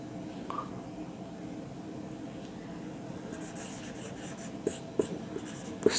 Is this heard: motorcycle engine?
no